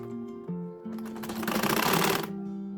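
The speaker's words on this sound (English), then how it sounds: "you go ahead and sew on that line that you want" A sewing machine stitching along a marked quarter-inch line on a notch-lapel jacket, a close, fast mechanical whir that builds in the middle and is framed by a hum before and after.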